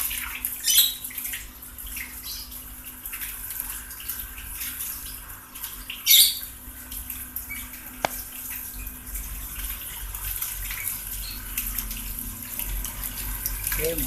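Water runs continuously through a koi pond filter chamber, a steady splashing flow with occasional louder gushes, heard at close range at low to moderate volume.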